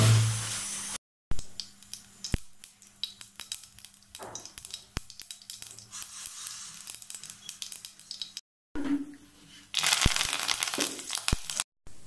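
Mustard seeds sputter and crackle in hot oil in a kadai during samosa cooking. Sharp, scattered pops come in uneven bursts, separated by brief silent gaps.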